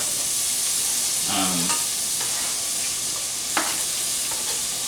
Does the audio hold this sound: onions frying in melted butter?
yes